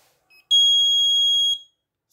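An RFID smart trolley for automatic billing gives a single high, pure electronic beep of about one second as an item is added, loud and close against near silence, with a faint short chirp just before it.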